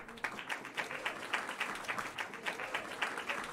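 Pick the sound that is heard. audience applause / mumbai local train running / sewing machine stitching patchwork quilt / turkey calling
audience applause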